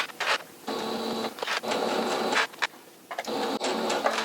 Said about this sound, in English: Got to sew on the line, of course.